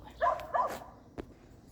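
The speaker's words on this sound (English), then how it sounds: "Don't mind the dogs." Dogs give two quick, close barks in a backyard kitchen garden, followed by a faint softer yip, with a brief pause between the sounds.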